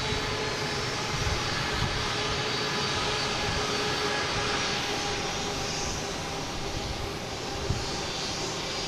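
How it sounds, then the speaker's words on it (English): Close and loud, a JetBlue jet airliner arriving from Pittsburgh at Boston Logan roars steadily with dense engine noise and a sustained tonal whine throughout, no voices heard. "Here's a noisemaker right here. JetBlue coming in the alley here."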